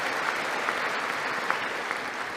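Sustained applause from a crowd, a steady dense wash of many hands clapping at once, fairly distant and even throughout with no voices standing out.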